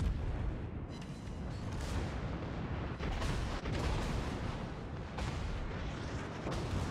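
Ship guns in World of Warships fire as heavy booming salvos over a continuous low rumble, with several sharp blasts standing out over a few seconds.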